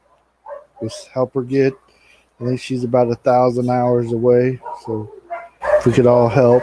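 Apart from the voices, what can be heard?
dogs barking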